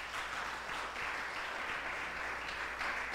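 A church congregation at a Sunday cell celebration claps together, a soft, fairly distant and steady patter of many hands that carries on evenly without any speech over it.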